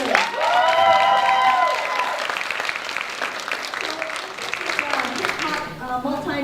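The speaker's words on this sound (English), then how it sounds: "Huge round of applause for Antics Dancers." A crowd at a community panel event applauds and cheers loudly for a hip-hop dance group, with whoops and shouts over dense clapping that gradually eases off as a voice comes in near the end.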